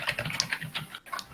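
Rapid, hard typing on a computer keyboard, a dense run of sharp clicking keystrokes with a brief pause near the end.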